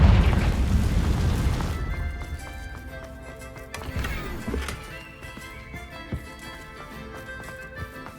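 A Confringo fire spell bursts in Hogwarts Legacy, opening with a loud, deep boom that rumbles and fades over a couple of seconds, followed by a few smaller thuds and impacts over a soft tonal game score.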